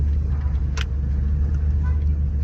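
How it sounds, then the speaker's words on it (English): Traffic noise with a steady low engine rumble from a Bobcat loader approaching, loud and continuous, with a short brighter burst partway through. "A little traffic. Bobcat coming in."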